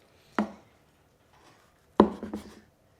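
Knife cutting into a roast duck leg at the thigh joint: a sharp crunch near 0.4 s, then a louder cluster of crackling cuts from 2.0 to 2.6 s, close and dry with quiet gaps between.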